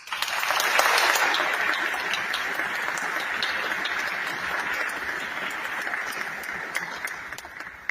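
An audience at a film festival screening applauds to welcome three panelists, a full, steady round of clapping that swells early and continues evenly until the end.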